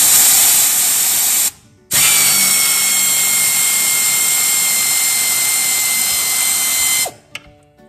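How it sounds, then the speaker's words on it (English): An offset style air wrench loosens a nut on a Permagreen Triumph, a loud, close, steady high-pitched pneumatic whir that cuts out briefly, resumes for about five seconds, then stops with a rattling clatter. "air wrench."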